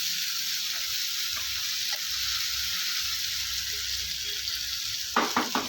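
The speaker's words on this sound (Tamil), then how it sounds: "இந்த தக்காளி நல்லா மசிஞ்சு வர வரைக்கும் வதக்கி விட்டுக்கலாம்" Onions and tomatoes sautéing in a pan for mushroom dosa give a steady, bright sizzle throughout, with a few soft stirring scrapes and a cluster of quick clinks near the end, close and continuous.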